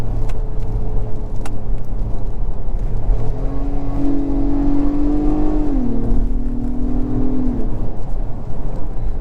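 A 2022 Acura MDX A-Spec AWD SUV accelerates hard from the cabin, its engine note rising loud and steady, dipping briefly at a gear shift and then climbing again, with no one speaking.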